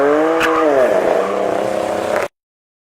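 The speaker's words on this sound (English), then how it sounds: "it has a 4-liter twin turbocharged V8 engine that pumps out 710 horsepower" McLaren 720S with a 4-liter twin-turbocharged V8 making 710 horsepower, heard from the cabin as a steady, loud engine drone with rising and falling harmonics, continuous for about two seconds before cutting off.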